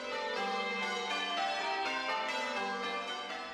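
Church bells of St Katharine Cree, bells dating from 1754, ringing in a dense overlapping peal with several strikes blending into a continuous, resonant metallic wash.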